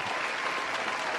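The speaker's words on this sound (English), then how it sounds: "let's hit a round of applause for Aubrey" A brief, dense burst of group applause for a guest named Aubrey on a podcast, many hands clapping at once at a steady, full level.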